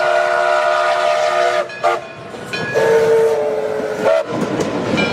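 A steam whistle on the Frisco 1630 locomotive sounds several harmonic blasts of varying length, loud and fairly near, over rumbling train noise.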